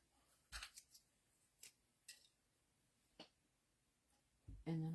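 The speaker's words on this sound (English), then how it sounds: "And then I'm going to cut the corners." Scissors snipping through strings and fabric while making a basket towel, a handful of sharp, separate clicks spread across a quiet room, close to the mic and faint overall, with a brief louder sound at the end.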